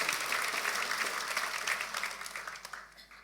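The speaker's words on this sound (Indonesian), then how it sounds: "Kita beri tepuk tangan saudaraku." A church congregation bursts into warm, dense applause during a sermon. The clapping is full and close at first, then thins and tapers off with a few scattered claps.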